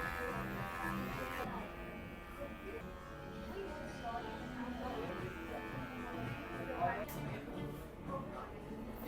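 Electric hair clippers buzz steadily during a haircut, a quiet close hum running under someone talking in Tamil.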